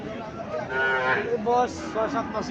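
A calf moos at a cattle market, a close, drawn-out bellow with a few shorter follow-up calls amid background market noise.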